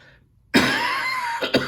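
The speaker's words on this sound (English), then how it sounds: "I still have that cough" After a moment of quiet, a close, harsh cough bursts out, followed by a couple of smaller coughs.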